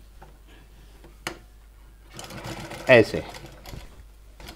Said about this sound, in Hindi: तो मैं सिलाई लगा रहा हूँ